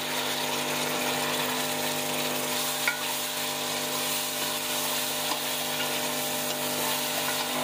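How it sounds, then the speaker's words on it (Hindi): Tomatoes frying in a pan with garlic and ginger for a sem aloo bean dish, a continuous close sizzle with a steady hum underneath and a couple of faint spoon clicks. "अब इसके अंदर हम टमाटर डालेंगे पांच बड़े टमाटर डाल देंगे"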